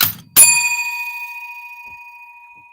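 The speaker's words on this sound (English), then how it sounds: "I just found the center bell recently." A small center bell is struck once, giving a sharp ding after a brief rustle, then a clear ringing tone that decays slowly over a couple of seconds, close and loud with no speech.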